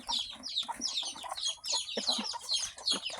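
A hen clucks repeatedly in quick, uneven bursts, close and fairly loud, with other chicken sounds mixed in.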